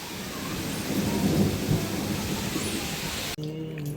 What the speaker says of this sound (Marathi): आज पण पाऊस आलाय